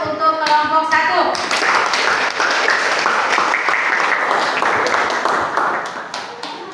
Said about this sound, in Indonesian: Berikan aplaus untuk kelompok 1.